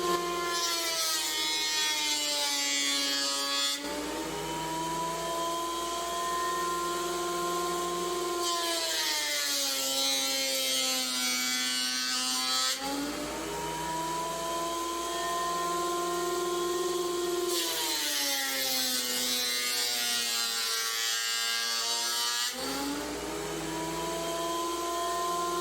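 A planer chews through a cracked scrap of hard maple while a 2HP dust collector roars steadily, with three loud cutting passes rising over the constant motor drone.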